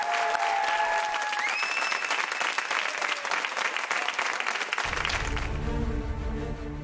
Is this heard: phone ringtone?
no